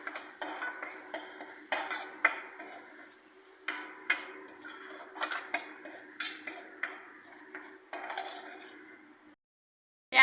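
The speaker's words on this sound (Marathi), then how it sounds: "अशा पद्धतीने मिक्स करून घ्यायचं।" A metal spoon stirs and scrapes through paneer curry with cream in a pan, making irregular clinks and taps against the metal, fairly faint and close, then stops near the end.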